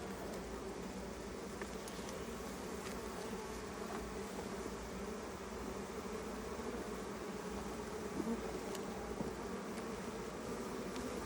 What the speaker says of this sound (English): Yeah, I see you buzzing me.